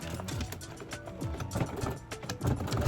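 A sewing machine stitches through a thick piece of leather for a bag, a rapid mechanical clatter with thumping needle strokes, close and fairly loud, running in short bursts with slight pauses.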